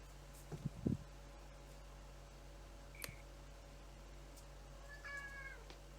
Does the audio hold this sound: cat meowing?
yes